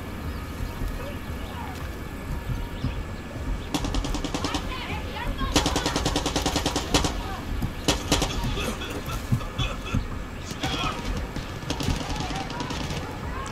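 Bursts of game gunfire from Far Cry 6 crackle in repeated volleys of rapid shots over a constant busy background din, moderately loud and close, pausing between bursts.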